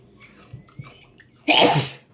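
After a few faint sounds and a quick breath, one loud, close sneeze bursts out abruptly.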